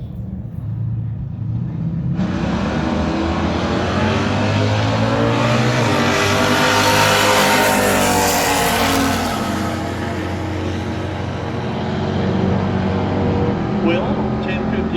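A 1966 Chevelle with a 540-cubic-inch engine and a black Corvette with side pipes launch down a drag strip, their loud, rumbling exhausts surging into a sustained roaring acceleration before easing off.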